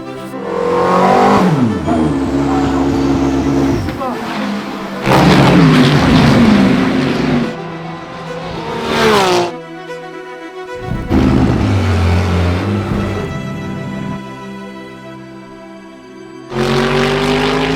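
Race cars at the Spa-Francorchamps 24 Hours, roughly 1000-horsepower machines, roar past in loud bursts with rising and falling engine pitch and gear changes, several passes close by with brief quieter gaps between them.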